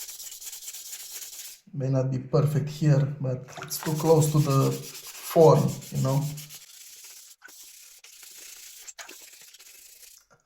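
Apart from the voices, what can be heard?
rubbing restored Nokia 3650 phone casing smooth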